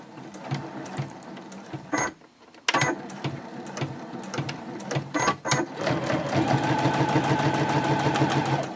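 A sewing machine stitching the seams of a clear-view fabric pouch at a stitch length of 3.0, close and rapid mechanical whirring in runs broken by brief stops, with a longer steady run at the end.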